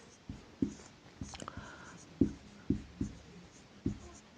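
Pen or chalk writing out a statistics formula: a series of short, distinct strokes and taps at an irregular rhythm, close and fairly clear over a quiet background.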